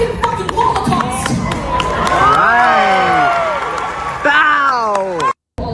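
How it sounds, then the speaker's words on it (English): A crowd cheers and claps with loud, rising and falling shouts and whoops. The roar stays steady, then cuts off abruptly just before the end. "so the crowd goes wild"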